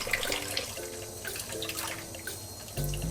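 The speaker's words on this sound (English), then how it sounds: "So I'm going to gently thaw these under running lukewarm water." Lukewarm tap water runs steadily over frozen shellfish in a kitchen sink, a soft continuous trickle and splash with a louder, fuller gush of flow near the end.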